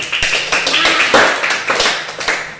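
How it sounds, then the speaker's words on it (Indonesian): Children in a classroom clap together in sharp, rhythmic bursts, close and fairly loud, with a few voices mixed in. "Beri tepuk tangan."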